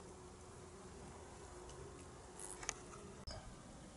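Bees in a hive in winter give off a faint, steady low hum, with a few small ticks and knocks near the end, quiet and close.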